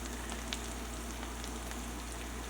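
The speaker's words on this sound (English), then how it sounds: "So we're just gonna keep letting it sizzle." Steady, soft sizzling of potato frying in a pan, a constant crackling hiss with faint pops, no voices.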